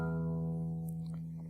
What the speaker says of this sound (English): so let's play string 6